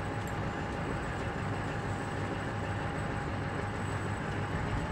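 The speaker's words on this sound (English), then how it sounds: "Here comes the train." A train passes through a video game battle scene, its low rumbling roll continuous and steady for the whole stretch, moderately loud with no voices over it.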